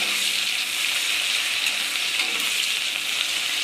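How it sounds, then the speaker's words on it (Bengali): Onions frying in a pan until browned for a Bengali-style chicken and jackfruit curry, giving a steady close-up sizzle and hiss with faint stirring, no talking. "পেঁয়াজটা লাল লাল করে ভেজে নেব"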